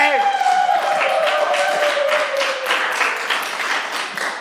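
A crowd applauding with scattered claps that gradually thin out, while a voice rings out over the start of the clapping.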